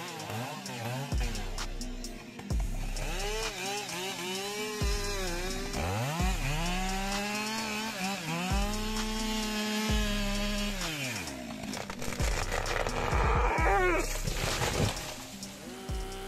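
Big forestry chainsaws cut through wood, their engines revving up and down in rising and falling whines over a continuous loud roar.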